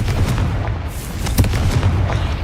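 A Bombarda spell explodes in Hogwarts Legacy, producing a loud, deep booming blast with rumbling low-end and scattered crackling bursts, close and continuous across the short stretch.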